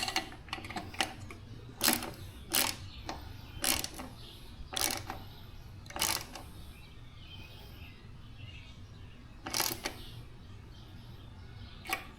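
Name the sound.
bolts being tightened down on license plate mount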